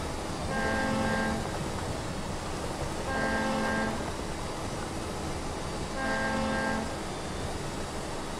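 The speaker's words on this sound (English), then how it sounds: "Let's hear the horn." Tatra 813 Kolos truck horn in the SnowRunner video game sounds three long, evenly spaced blasts, each under a second, over a constant rumbling engine drone.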